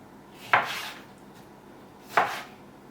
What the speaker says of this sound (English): Tomatoes, just roughly chopped.